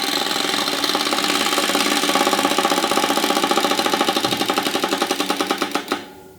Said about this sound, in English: He's winding up a Chattering teeth.